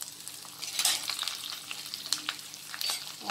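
Finely chopped ginger and green chillies sizzle and crackle in hot oil for South Indian lemon rice, with close, steady frying and occasional stirring scrapes.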